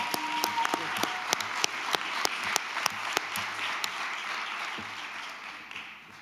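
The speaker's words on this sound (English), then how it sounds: "It's always good to have an enthusiastic cheer crowd for you in the back." Enthusiastic crowd at the back of a school board meeting room breaks into steady applause, a bed of dense clapping with a few sharp, distinct claps standing out, moderately loud and fading gently toward the end.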